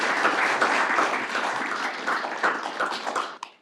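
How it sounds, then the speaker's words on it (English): Steady round of applause from attendees at a county commissioners' court meeting after a proclamation passes, dense clapping holding for several seconds before tapering off with a final sharp knock. "let's give them a round of applause"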